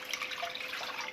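Water pours steadily from a container over a shaak roast in a pot with soy sauce, a continuous close, bubbling splash with no talk.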